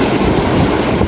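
Strong wind roaring across a microphone beside iceberg-filled waters in Greenland, a loud, steady low rumble with no pauses and no voices.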